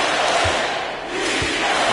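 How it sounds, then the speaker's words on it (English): A basketball playoff crowd at a Pelicans vs Clippers game roars in a steady, dense wash of cheering that dips briefly in the middle before swelling again, with no talk over it. "This crowd on the edge of their seats."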